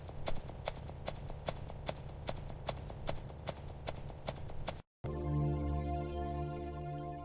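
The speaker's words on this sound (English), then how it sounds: "So Temujin mounted his horse and rode across the steppe toward the camp of Toghrul Khan." Horse hoofbeats clip-clop in a quick, regular rhythm, close and distinct, as if a rider crosses the steppe. They cut off suddenly and give way to a low, steady humming tone.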